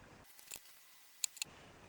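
Scissors snip through paper while cutting out a piece for a Thanksgiving turkey paper craft: a few short, crisp cuts close by in a quiet room, with no talking.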